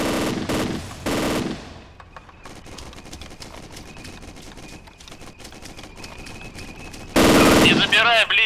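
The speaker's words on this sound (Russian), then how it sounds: "Вот сейчас выстрелы дают они" Gunfire in the military shooter ArmA 2: a few loud close bursts open the stretch, then a long run of distant rapid shots and machine-gun rattle, and a final heavy close burst near the end.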